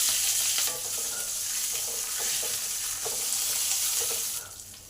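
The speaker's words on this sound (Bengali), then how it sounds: "এবার কারি পাতাটা দিয়ে দিই," Curry leaves hit hot oil with mustard seeds in a pan for upma, giving a steady, close crackling sizzle with small pops throughout that fades slightly toward the end.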